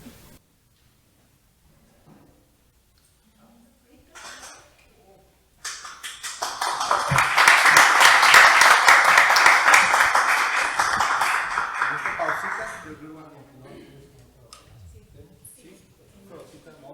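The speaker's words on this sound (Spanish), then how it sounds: "este aplauso que para ustedes bien ganado con su participación" An audience at a talk on sexuality from medicine and psychology bursts into applause, swelling quickly into a dense, steady clapping that holds for several seconds and then fades out. Brief quiet moments come before it.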